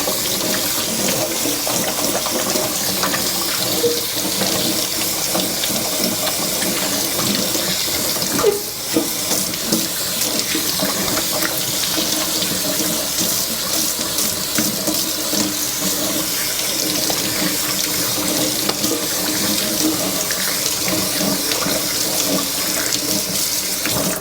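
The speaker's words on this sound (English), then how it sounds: "I'll wash my hands first." A kitchen tap runs steadily while hands are washed beneath it, the water's continuous hiss and splash filling the space before a meal of red herring with okra and dumplings is cooked; brief splashy changes appear midway.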